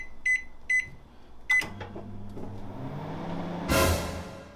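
A microwave oven beeps a few times, then hums steadily while heating a frozen chicken satay meal, ending with a louder clunk or door sound near the finish.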